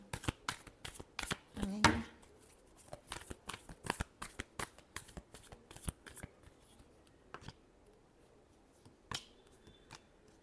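Tarot cards are shuffled by hand in a series of quick crisp riffles and flicks, close up, starting busy and thinning out into scattered snaps toward the end.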